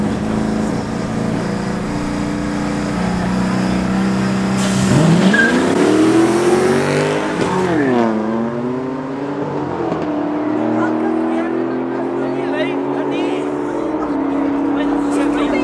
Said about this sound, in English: the V8 Corolla is going up against the M3